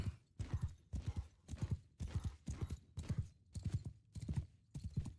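Horse hooves in the medieval battle game Mount & Blade 2 Bannerlord, a galloping clip-clop in a steady repeating beat of about ten strides, close and fairly quiet, with no talking.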